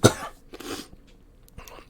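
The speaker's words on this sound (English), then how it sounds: "I'm sorry about all the coughing." Several harsh coughs from a person with COVID-19 in quick succession, close and fairly loud, separated by brief pauses with no talking.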